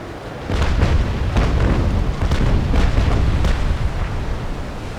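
Ship cannons firing in the Naval Action sailing video game, a dense run of booming shots that blurs into a continuous loud roar and rumble lasting several seconds, with no talking.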